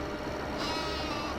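Sheep bleating near a sheep pen on a farm; a single faint, wavering bleat rises out of steady background noise, with no talking.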